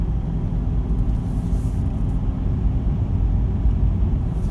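A car with an automatic transmission accelerates through second and third gear, heard from inside as a steady low engine and road rumble with little change in pitch, no talking.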